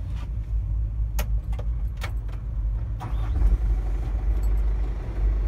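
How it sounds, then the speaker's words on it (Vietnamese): Keys jingle in the cab of a 2018 Hyundai Mighty 8-ton truck, then the diesel engine turns over and settles into a low, steady idle rumble close by. "Bây giờ mình sẽ nổ máy lên cho các bạn nghe thử nha."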